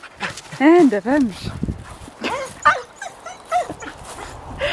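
An eager dog whimpers, yips and gives short barks while waiting for a walk to a pine wood, several high whining calls near the microphone, with a person speaking over them.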